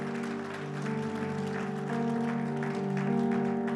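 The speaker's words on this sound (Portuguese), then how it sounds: "Quem pode dar um aplauso bem forte ao Senhor?" A church congregation applauds the Lord in a steady, full-room wash of clapping, with sustained keyboard or organ chords ringing beneath it throughout.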